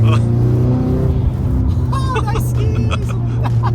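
A Nissan S15 Silvia kaido racer's engine drones loud and steady at close range, holding a deep idle-like rumble while people talk over it.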